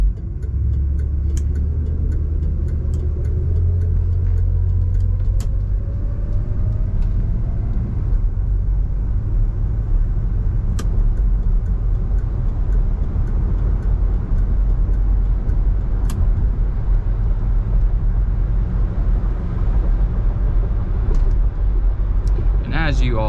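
A 1975 Oldsmobile Cutlass S drives over rough, bad roads, its engine and road rumble steady and loud throughout, with occasional knocks and clatters from the uneven surface.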